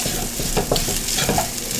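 Food is stirred and fried in an oiled pan: close crackling sizzle with quick, irregular scraping and tapping of a utensil against the pan, no voices.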